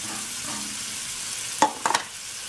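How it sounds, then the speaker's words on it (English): Frozen vegan meatballs sear in a Heritage The Rock pot with a steady low sizzle, followed by a few quick utensil clinks as they are moved. "So you're going to sear your meatballs."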